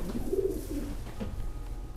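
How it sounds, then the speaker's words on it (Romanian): A female racing pigeon coos at an auction, a low throaty coo close by that repeats softly over a dull background hum. "este un porumbel reprodus de data asta femelă"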